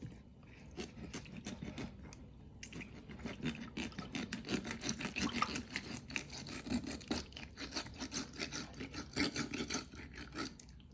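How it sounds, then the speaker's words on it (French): A knife cuts up chicken wings, sawing back and forth in a rapid, rhythmic rasping close by, quiet and steady throughout with no speech. "on découpe d'abord les ailes du côté gauche et côté droite"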